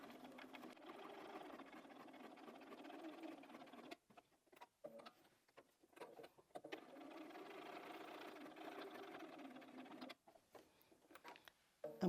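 A sewing machine quilts a fabric cushion, running in two steady stitching bursts of several seconds each, separated by a pause filled with soft handling noises, then stopping again near the end.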